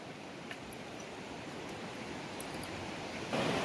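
Rushing water at the confluence of the Nandakini and Alaknanda rivers at Nandprayag, a steady broadband roar heard from nearby, swelling louder in the last moment.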